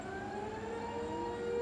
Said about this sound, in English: those are the sirens that mean I need to get inside the house